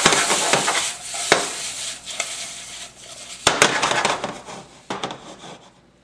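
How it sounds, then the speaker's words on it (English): Shrimp and onion stir-fry in sesame oil in a pan, giving a bright, close sizzle that swells and fades, broken by sharp scraping and tossing bursts from stirring. "now I've got a saute or a stir fry of sesame oil, onion, and shrimp"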